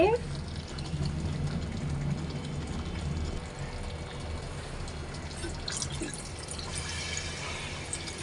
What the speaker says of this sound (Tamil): இப்போது இதில் தேவையான அளவு எண்ணெய் தண்ணி ஊற்றிக்க போகிறோம்